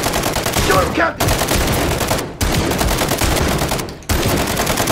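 Relentless automatic gunfire in Call of Duty MW3's No Russian mission, loud and dense, broken only by a few very brief pauses between long bursts.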